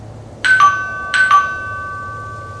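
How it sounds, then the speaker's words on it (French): A two-tone doorbell chimes twice, each ding-dong ringing out clearly and decaying over a low steady background hum. "appuie sur la sonnette"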